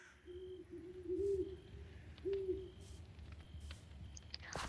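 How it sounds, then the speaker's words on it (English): Owl hoots in the Minecraft video game, two soft, evenly pitched calls close together over a steady ambient hum, with faint scattered clicks and no talking. "Man, the owl hooting's really freaking me out."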